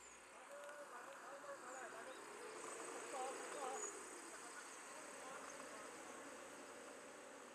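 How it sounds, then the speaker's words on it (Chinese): Chinese honeybees from more than a thousand hives at a mountain bee farm hum in a steady, faint drone, a continuous buzzing swarm heard at a distance with no clear voices. "1000多群中华蜜蜂就是蜂场的全部"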